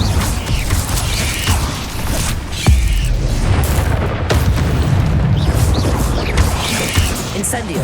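An Incendio fire spell cast during combat in Hogwarts Legacy, with loud whooshing, crackling bursts and booms over a busy battle, accented by sharp impacts.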